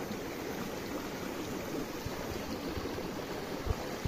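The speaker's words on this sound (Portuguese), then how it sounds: "Muitas cachoeirinhas aí se formando, ó." Water tumbles over small waterfalls below a dam near Poço da Caveira in Acari, a steady broad rushing roar, constant and close throughout with no speech.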